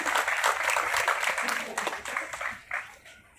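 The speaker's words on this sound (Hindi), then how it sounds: "मंच पे जोरदार घनघोर तालियों के साथ स्वागत करती हूँ हमारी आज की कार्यक्रम की महाविया का।" An audience at an International Women's Day celebration held by the Bharat Scouts and Guides claps to welcome the chief guest; steady, fairly close applause that thins into scattered claps and fades toward the end.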